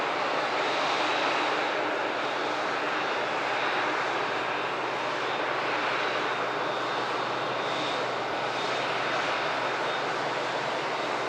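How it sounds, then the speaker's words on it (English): An Emirates Airbus A380 arriving from Dubai at Manchester Airport produces a loud, sustained engine roar that stays broad and steady throughout, with no break in the rumble. "Emirates Airbus A380, a little bit behind schedule here at Manchester Airport. Landed in from Dubai."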